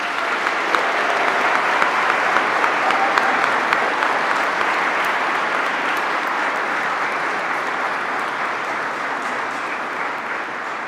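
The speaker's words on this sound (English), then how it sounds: "Please give them the biggest applause you can." Sustained applause from a large crowd at a university medical faculty graduation ceremony, loud and steady for several seconds, with a few louder claps poking through before it slowly eases.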